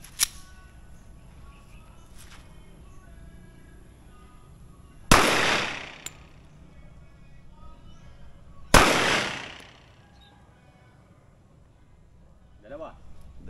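Two loud, sharp rifle shots fired at a 25-meter target outdoors, about four seconds apart, each with a short echoing tail over quiet background.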